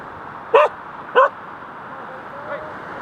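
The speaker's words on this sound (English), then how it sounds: "I got a dog barking at me." A dog on a Lake Superior north shore beach gives two sharp, distinct barks close together, followed by a faint whine, over a soft background hush.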